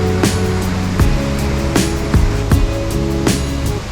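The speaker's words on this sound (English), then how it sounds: "You can get very close to the falls here," Waterfall in Jasper National Park roaring steadily up close, a loud continuous rush of falling water with no voices.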